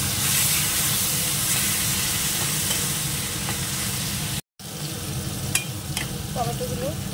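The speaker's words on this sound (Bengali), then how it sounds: "দিয়ে দেবো একটুখানি জল কষানোর জন্য" Mushrooms cooked down with salt, sugar and ground coriander-cumin sizzle loudly and continuously in a pan, a dense close hiss broken by one brief dropout, with faint clinks of stirring and no speech.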